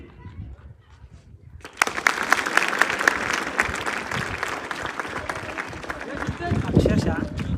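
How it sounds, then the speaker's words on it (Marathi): A crowd in the darbar hall of Raigad fort bursts into loud, sustained clapping after a quiet start, with voices mixed in. "कागदाचा आवाज आला तर फक्त सर्व टाळ्या वाजवा"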